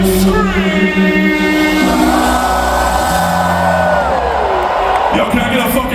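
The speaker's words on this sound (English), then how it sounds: "Everybody fucking scream!" A large crowd at a Download Festival rock concert screams and whoops loudly and continuously, with a sustained roar of many voices close and far, and tonal sound ringing through the din.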